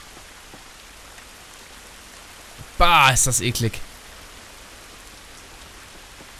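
Steady rain falls in The Last of Us Remastered, a constant soft hiss throughout, briefly covered midway by a short spoken remark.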